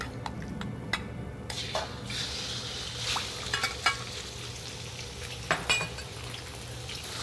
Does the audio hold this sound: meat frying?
yes